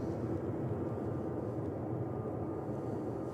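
A Ryanair jet departing Manchester Airport for Alicante makes a distant, even rumble, a low sustained drone with no voices.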